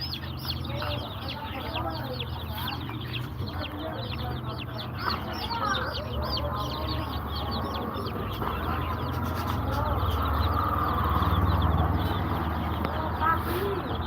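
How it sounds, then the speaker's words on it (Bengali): A crowd of one-day-old layer chicks cheeps continuously, many high thin peeps overlapping in a dense, steady chorus close by, with a person talking underneath throughout. "একদিন বয়সের লেয়ার মুরগির বাচ্চা"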